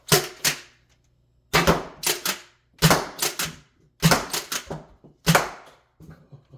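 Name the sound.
Nerf darts hitting taped destructible panels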